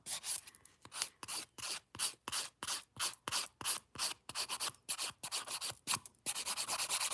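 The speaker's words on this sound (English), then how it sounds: "So I'm blending down that cuticle line and the sidewalls." A 180 grit nail file rasps in quick, regular strokes, fourteen or so close together and ending in a faster flurry, as it blends the cuticle line and sidewalls of a nail.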